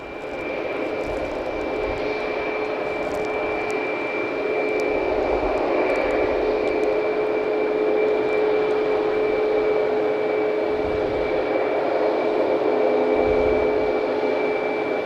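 Airplane taking off at Logan Airport at night, a steady loud engine roar with a sustained whine holding throughout, building slightly and staying close.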